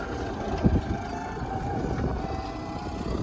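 A new tractor ploughs a field, its engine giving a steady low drone with wind buffeting the microphone and a brief thump early on.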